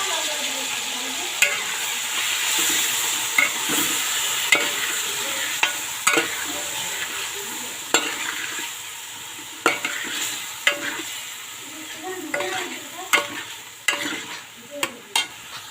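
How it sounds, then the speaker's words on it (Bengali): Spice paste (masala) frying in a pan, a steady loud sizzle broken by repeated sharp scrapes and taps of a spoon stirring, growing more frequent toward the end. "তো মশলাটা কষানো হচ্ছে"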